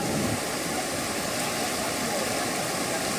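Floodwater rushing through submerged streets in Tapi, Gujarat after heavy rains, a steady, dense broadband roar of flowing water with no break and no voices.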